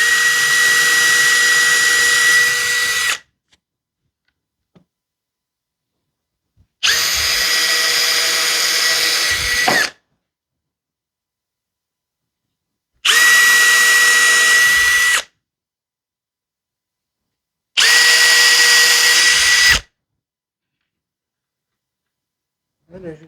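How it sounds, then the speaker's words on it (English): A power drill drives screws in four separate bursts of a few seconds each, a close, loud whirring whine with near-silent pauses between bursts. "So now we'll just take our drill"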